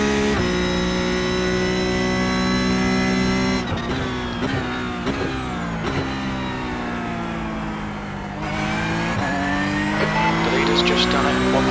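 A Porsche Cup race car engine at Zandvoort in the iRacing sim, loud and close, with a sustained high-revving whine that drops and climbs sharply through repeated gear shifts.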